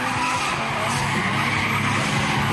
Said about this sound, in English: The sound of screeching brakes filled the air as crowds gathered to watch the action